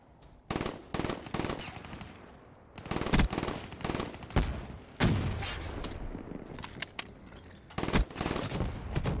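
Bursts of automatic gunfire crackle in a first-person shooter match, with repeated short volleys and single shots spread unevenly across the whole stretch.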